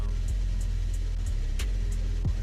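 F1 car leaving the garage in the racing game F1 25, a steady low engine drone with regular faint clicks and a rising whine near the end, alone without speech.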